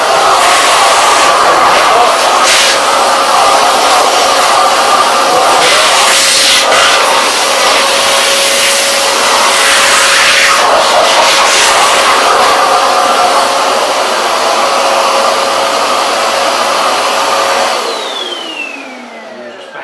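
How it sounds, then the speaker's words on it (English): A vacuum cleaner runs steadily and loudly while dust is cleared from a room before painting, a sustained whine with rubbing and bumping as the nozzle moves, then it winds down and stops near the end. "then we vacuum the worst of the dust off, and then wipe it down with white spirit"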